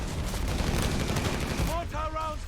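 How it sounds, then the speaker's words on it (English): Dense, continuous mortar barrage pounding a player during a competitive video game finals match, a rapid wash of loud blasts with brief tonal game sounds near the end. "These mortars are just bombarding Theo."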